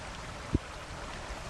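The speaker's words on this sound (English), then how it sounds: "Little waterfall." A small waterfall in a creek at a nature park in Rockville, Maryland, gives a steady, faint rush of water, broken once by a brief soft knock.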